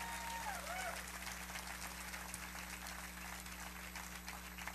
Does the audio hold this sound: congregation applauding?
yes